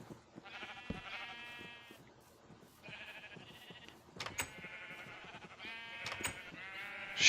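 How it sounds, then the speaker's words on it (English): Penned sheep in the Minecraft video game bleat repeatedly in quick, overlapping wavering calls, fairly quiet, with small game clicks and thuds between them. "Sheep stay in the pen."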